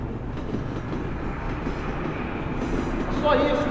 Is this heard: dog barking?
no